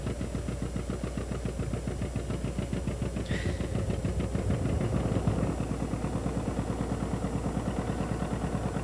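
A farm tractor engine runs at a steady idle close by, its even throbbing pulse continuing unbroken throughout.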